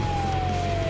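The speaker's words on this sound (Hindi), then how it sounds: "एम्बुलेंस हाजिर है।" An ambulance siren wails as a steady, loud, continuous tone, heard up close in an animated cartoon scene.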